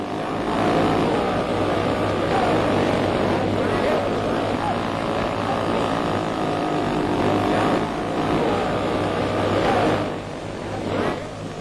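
Vintage RC model airplane taking off and flying stunts such as loops, its small engine droning loud and steady throughout with slight rising and falling pitch, under continuous narration.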